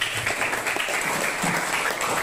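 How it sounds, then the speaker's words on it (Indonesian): Applause from a classroom of students, a short burst of scattered clapping at moderate distance, somewhat thin and noisy. "berikan tepuk tangan ke Dara."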